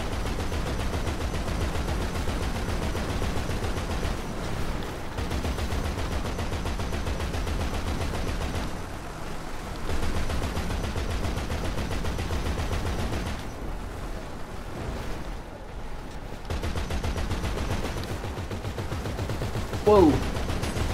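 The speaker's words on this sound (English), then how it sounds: "Start shooting." Grand Theft Auto V deathmatch gunfire runs on and off as dense rapid bursts and overlapping shots, loud and sustained, with a few brief lulls in between.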